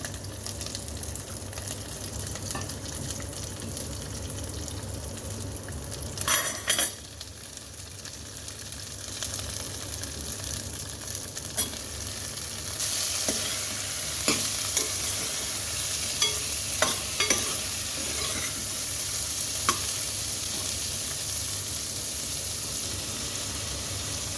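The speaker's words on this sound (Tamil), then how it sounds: "இது கூட இப்போ நம்ம கட் பண்ணி வச்சுருக்கிற இந்த கத்திரிக்காவை சேர்த்துக்கலாம்" Chopped brinjal with garlic fries in a pan for a curry, giving a steady close sizzle. A spoon stirs and scrapes through it now and then, making a few sharper knocks, and nobody speaks.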